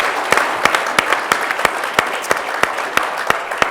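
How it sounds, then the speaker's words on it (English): An audience at a panel discussion in Vancouver applauds the panelists, a steady wash of crowd clapping with one nearby pair of hands striking loud, evenly spaced claps over it. "A round of applause for them."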